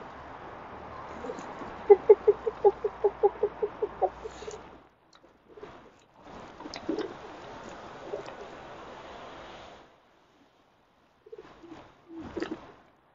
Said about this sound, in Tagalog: Yan ang mga ibon.